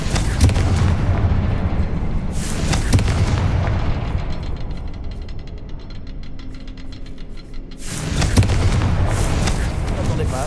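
Confringo fire spell blasts exploding in the Hogwarts Legacy video game, a few booming bursts near the start and another at the end, with a quieter, crackling stretch between them.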